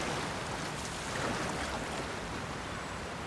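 Steady rushing water from a waterfall while swimming in Zelda: Tears of the Kingdom, a dense broadband roar that holds at an even level throughout with no voices.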